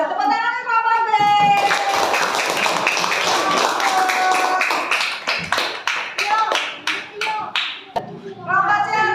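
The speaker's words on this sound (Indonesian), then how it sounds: "Tepuk tangan kelompok B." Classroom applause for a student group at an Indonesian primary school, a burst of many hands clapping that runs for several seconds and breaks into scattered claps before talk resumes.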